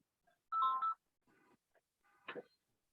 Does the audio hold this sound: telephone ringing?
yes